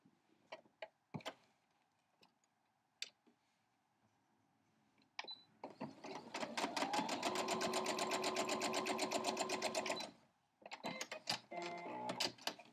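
A home sewing machine runs steadily for about four seconds, stitching down a quilt block seam as a close rapid mechanical chatter, bracketed by clicks and handling noises before and after.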